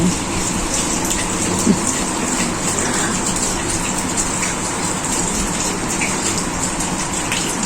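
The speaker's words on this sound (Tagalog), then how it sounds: "Yan, umulan na nga diba? Maulang araw." Steady rain pours down outdoors on a cold, windy day in Israel, a dense, continuous hiss and patter that stays loud and even throughout with no voices.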